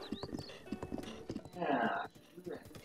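Horse hooves clip-clop in a steady walking rhythm in Zelda Breath of the Wild, close and fairly quiet, with a brief louder rustling burst partway through and a voice talking over it.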